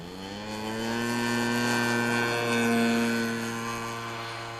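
A large Hanger 9 PA18 Super Cub radio-controlled airplane with an 8-foot wingspan takes off at a flying field, its engine buzzing as a steady droning whine that swells and then fades slightly as it climbs away.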